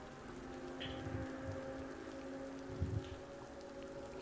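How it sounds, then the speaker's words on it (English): Rain falling on the Circuit of the Americas in the racing game Assetto Corsa Competizione, a quiet steady patter of raindrops over a faint engine hum, with a few soft low thumps. "also because there's quite some rain falling down the circuit of the Americas."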